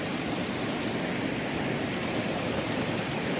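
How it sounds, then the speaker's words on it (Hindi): A spring-fed water stream in a gully of the lesser Himalayan hills flows steadily, a dense, even rush of running water heard close and alone without pause. "ये नीचे यहाँ पे पानी का गधेरा है"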